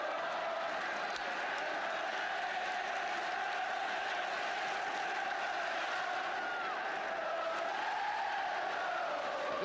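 A football stadium crowd at a 1973 Chelsea versus Manchester United match, a steady distant roar of many voices swelling slightly toward the end, continuous with no clear pauses.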